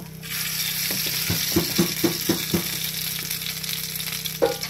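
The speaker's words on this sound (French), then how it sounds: "So we're gonna put some oil to fry the potatoes." Potatoes frying in oil in a pan over medium heat, a steady close sizzle with a run of rhythmic stirring knocks in the middle and one more near the end; no speech.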